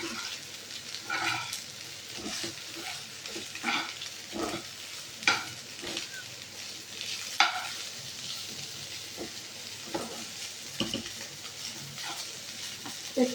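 Steamed polao rice fries in oil in a pan, a steady low sizzle broken by repeated scraping stirs of a spoon at an uneven rhythm, close and clear with no talking.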